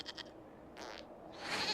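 A goat bleats in the video game Dragon Age: Inquisition, a few short, quiet, wavering cries in quick succession, faint and alone with no talking.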